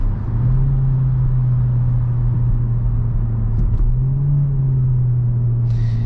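A 2023 Hyundai Elantra with a CVT transmission drives steadily, its engine drone holding a continuous low hum that rises slightly in pitch twice, under a constant rumble of road noise from inside the cabin.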